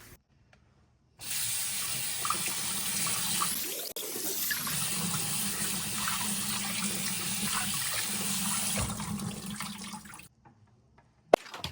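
Tap water runs steadily and loudly over chopped salmon and shrimp in a sink, a continuous rushing stream with a short break in the flow, stopping near the end.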